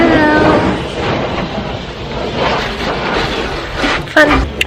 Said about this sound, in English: I actually love a car wash.